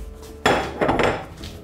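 A metal lid set onto a cooking pot holding trout with vegetables in marinade: one sharp, close clank, then a second rattling clatter as it settles, with a faint ring afterward.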